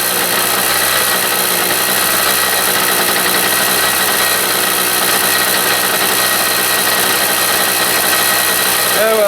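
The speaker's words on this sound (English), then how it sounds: "I've got my Harbor Freight generator running outside" A Harbor Freight portable generator runs steadily outdoors with a loud, constant engine roar and broad hiss that holds unchanged for the whole stretch, with no talk over it.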